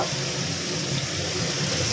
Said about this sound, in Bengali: এবার পেঁয়াজ আর টমেটোটা একটু ভালো করে ভাজা হয়ে গেছে